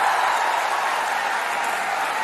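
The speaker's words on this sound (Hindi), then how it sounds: "मैं चाहता हूं एक बार मुझे खुलकर तालियों से आदेशित कर दीजिए" An audience at a Hindi stand-up comedy show claps in a steady, dense wash of applause, moderately loud and even throughout, with no voices standing out.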